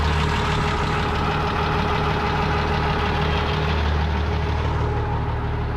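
An IH 933 combine harvester engine running steadily after being restarted following seven months idle: a loud, close, continuous mechanical drone with a constant low hum and no voices.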